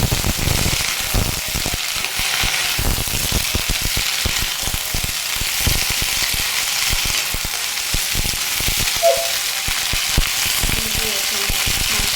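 Potatoes and eggs fry in a kadai pan with cumin seeds in hot oil, giving a dense, steady crackling sizzle close up with scattered sharp pops that runs throughout, without talk.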